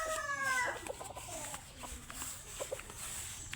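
Chickens in a coop in Leyte cluck in short, scattered bursts at moderate distance over a faint background hiss, with no voices.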